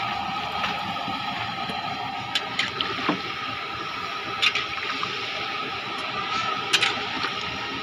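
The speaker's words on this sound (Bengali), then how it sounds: "জল দিয়ে দিচ্ছি।" Water poured into a pan of potato curry (aloo dum), a steady rushing gush over simmering cooking noise, with a few sharp clinks of a utensil against the vessel, close by and without speech.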